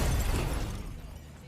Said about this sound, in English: ram into the tree and see how much damage it does